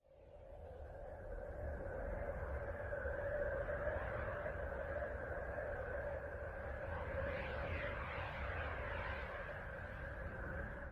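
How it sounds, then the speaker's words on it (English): Recorded electromagnetic emissions from the planet Uranus rendered as sound: a steady, eerie droning hum with two sustained tonal bands over a whooshing noise bed, faint and continuous throughout. "the sound you just heard from Uranus is created by electromagnetic waves"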